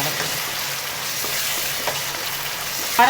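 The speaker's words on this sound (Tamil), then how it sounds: "கொத்தமல்லி சேர்த்து நல்லா அப்படி ஒரு வதக்கு" Tomato rice masala with coriander leaves sizzles and fries in a pan while being stirred, a steady close crackling hiss with occasional light scrapes and no voices.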